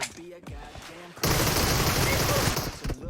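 Rapid sustained automatic gunfire in PUBG Mobile, a dense loud burst that starts abruptly and rattles on for nearly two seconds, following a stretch of voice talking.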